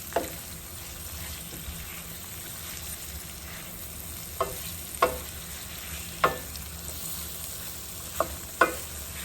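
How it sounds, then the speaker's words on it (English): Grape tomatoes sizzle in a hot pan for a Caribbean saltfish and bakes dish, with a steady close fry broken by several sharp scraping stirs toward the end. "To this, I'm going to go ahead and add some tomatoes, and I have some grape tomatoes in here."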